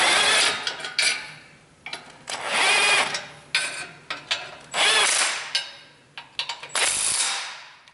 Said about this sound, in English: I'm gonna go ahead and just tighten up the Y pipe now